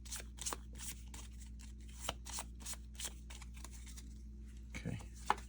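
Playing cards are shuffled into a deck in a quiet room, a string of soft, rapid riffling clicks in short regular bursts over a low steady hum, ending in a couple of louder taps.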